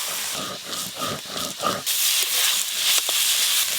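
Snake gourd frying in a pan as its released water boils off, a broad, steady sizzling hiss that swells after a few softer, pulsing moments.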